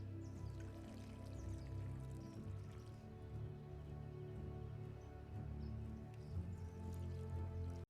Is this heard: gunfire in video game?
no